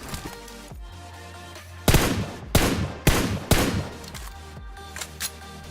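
Tap-fired gunshots at long range in PUBG Mobile, a handful of loud sharp cracks spaced about a second apart over a steady backdrop of game music and ambience.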